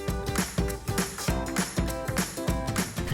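A sewing machine running a finishing seam on a fabric toiletry bag, loud and close, with a fast repetitive mechanical clatter in rhythmic bursts.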